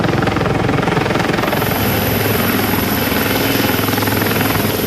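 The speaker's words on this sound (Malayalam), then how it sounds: "കൽപ്പറ്റയിലെ SKMJ സ്കൂൾ ഗ്രൗണ്ടിൽ 11:30യോടെയാണ് എയർഫോഴ്സിന്റെ ഹെലികോപ്റ്റർ പറന്നിറങ്ങിയത്." A loud, close Air Force helicopter fills the air while landing on a school ground in Kalpetta, its rotor chop and engine whine steady and unbroken throughout.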